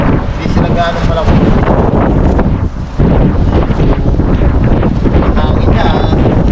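Strong wind blowing outdoors on a bridge, roaring steadily and loudly against the microphone with constant buffeting throughout.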